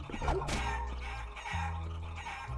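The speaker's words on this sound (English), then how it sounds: "Chickens." Chickens cluck and cackle in the video game Guacamelee! over a low, steady musical background, the bird calls moderately loud amid other game-like sounds.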